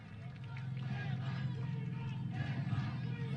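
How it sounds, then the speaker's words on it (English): Distant crowd cheering and babble in the stands at a women's T20 cricket match in Kathmandu, a steady roar with rising swells of excited voices throughout. "Cheering every run."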